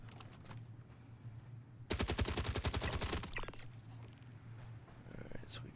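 Rapid automatic gunfire strikes a player's ship in the Star Citizen bunker mission, a dense burst of about a dozen quick shots over a steady low hum, followed by scattered fainter impacts and mechanical clatter.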